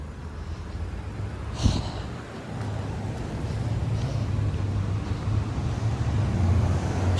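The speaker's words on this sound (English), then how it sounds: "look at all that freaking traffic" Steady road traffic rumbles along a street in Toronto's Keelesdale-Eglinton West district, a continuous low drone of passing vehicles with one brief sharper sound early on and no clear talk.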